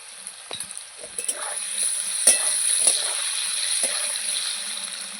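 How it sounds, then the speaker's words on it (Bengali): Diced potatoes with salt frying in a pan, a close, steady bright sizzle with occasional stirring scrapes, alone without talk. "এদিকে আমি আলু ভাজা বসিয়েছি"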